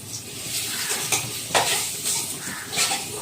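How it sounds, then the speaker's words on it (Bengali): A small cardamom pod and two or three pieces of cinnamon fry in hot oil for a chicken or mutton kosha-style dish, a steady close sizzle with occasional stirring scrapes and light metal clinks. "দিচ্ছি একটা ছোট এলাচ আর 2-3 টুকরো দারচিনি, দিয়ে একটু ভেজে নিলাম"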